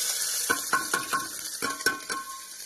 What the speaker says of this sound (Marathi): तर चला आता आपण टाकून घेऊ मस्तपैकी जिरं